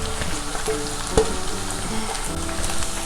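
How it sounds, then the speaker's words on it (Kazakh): Meat frying in a pan with carrots and pepper makes a dense, continuous close sizzle, with one brief louder crackle partway through. "Сап-сары түсті болғанша жақсылап қуырып аламыз етімізді"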